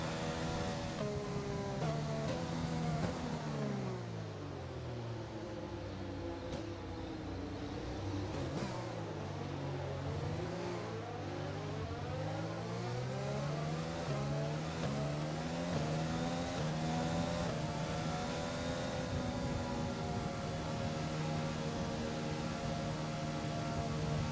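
An F1 car engine in the F1 2020 video game, revving high and shifting up through its gears on a warm-up lap, pitch repeatedly climbing and dropping in loud sweeping whines that continue steadily without talk.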